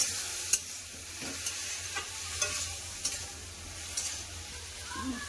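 Poppy seed paste sautéing with vegetables for a jhinge posto ridge gourd dish, a steady soft sizzle with a spatula scraping and clinking against the pan every half second or so, close and unaccompanied by voices.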